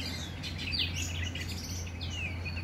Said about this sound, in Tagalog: Yung mga ibon umaawit.